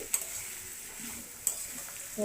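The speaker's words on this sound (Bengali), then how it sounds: "পেঁয়াজটাকে ভালো করে খুন্তি দিয়ে ভেঙে ভেঙে নিচ্ছি।" Chopped onion fries quietly in a pan for a spicy crab curry, with a soft low sizzle and a few sharp scrapes and clicks as a spatula stirs and breaks it up.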